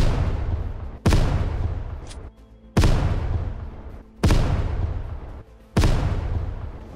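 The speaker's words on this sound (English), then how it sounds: "That's what they are, mortars." Heavy mortar rounds land in the video game Unturned, four loud booms spaced about a second and a half apart, each with a sharp onset and a long rumbling decay, with no talking.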